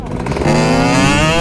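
A warm motorcycle engine revs sharply up from a low putter into a loud, close, rising whine, held briefly at high revs.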